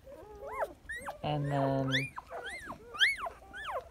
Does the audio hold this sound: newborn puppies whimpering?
yes